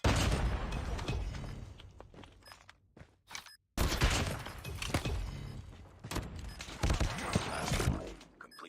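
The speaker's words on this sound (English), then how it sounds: "Grenade out!" Call of Duty Mobile match with bursts of gunfire and an explosion, including a sharp blast after a brief lull, with rapid shots and impacts continuing to the end.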